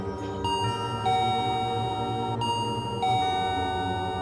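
A doorbell chimes indoors in a few distinct ding-dong tones spread over several seconds, clear and fairly loud, with a low background hum and no voices.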